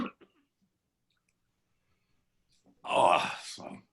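A man gives a single harsh cough after a long silence, loud and close, with a few faint throat sounds just before it.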